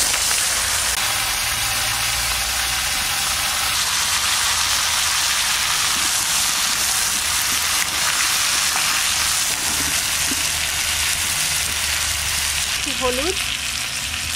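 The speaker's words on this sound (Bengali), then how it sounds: "এবার আমি এর মধ্যে দিচ্ছি জিরে। এই তেলের মধ্যে দিয়ে দিলাম তেজপাতা।" Cumin seeds and bay leaf sizzle steadily in hot oil, left in the pan after frying Padma river hilsa fish, a loud continuous crackle running unbroken throughout.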